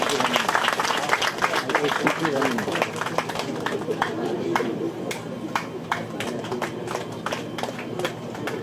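Audience applause during a felicitation at a church opening ceremony: dense, steady clapping from many hands through the whole stretch, with people talking underneath.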